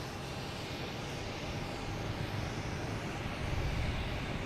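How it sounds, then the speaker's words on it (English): Spirit Airlines jet taxiing out at Boston Logan Airport, a steady broadband engine rumble and roar heard from a distance, holding constant and swelling slightly toward the end, with no talking. "We have Spirit Airlines heading out,"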